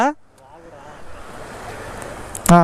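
Steady rushing water like a flowing stream fills the clip, with brief bits of talk at the start and end.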